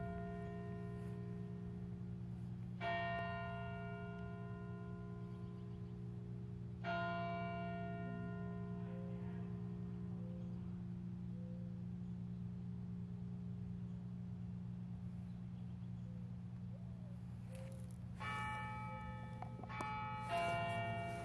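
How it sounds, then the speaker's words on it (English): Church bells ring out across a cemetery in a few separate bursts of strikes with long, ringing decay, fairly distant and quiet over a steady low background hum. "You like those bells?"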